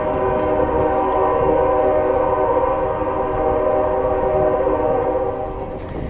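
A train passes near a disc golf course at a pro tour event, its horn sounding as a loud, sustained, steady blare that holds for several seconds over a rumbling rail noise and fades slightly at the end.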